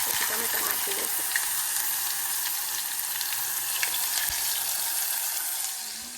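Tomatoes hit hot oil already seasoned with cumin, curry leaves and asafoetida and fry with a steady, close hiss and crackle, with faint stirring clinks throughout before the sizzle softens slightly at the end.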